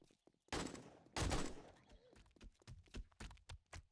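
Gunfire in the video game 7 Days to Die: two loud, broad bursts of shots, then a run of quicker, lighter sharp impacts in an irregular rhythm.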